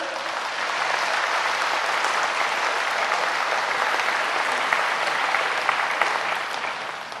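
A large crowd applauds continuously at a religious peace assembly, a dense sustained wave of clapping that holds steady and tapers slightly at the end.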